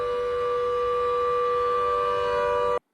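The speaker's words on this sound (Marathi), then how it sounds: "पुणे शहरात नागरी संरक्षण दलाकडून सायरनची तपासणी करण्यात आली" A civil defence siren test in Pune gives a loud, steady tone that holds without pause for nearly three seconds, then stops abruptly.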